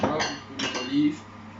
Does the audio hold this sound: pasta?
yes